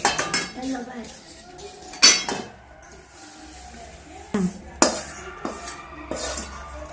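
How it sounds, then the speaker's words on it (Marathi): Hot besan barfi mixture is poured onto a ghee-greased plate and spread, with sharp metallic clinks and scrapes of utensil on plate coming in uneven bursts, close and moderately loud, with pauses between. "ह्याच्यात आता हे ओतून घेऊया मिश्रण"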